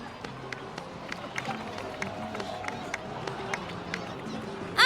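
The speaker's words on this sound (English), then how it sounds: "please give another round of applause for them" Sustained applause from a game crowd in Genshin Impact, a dense steady patter of many hands clapping at moderate distance with a faint murmur of voices underneath, continuing without pause throughout.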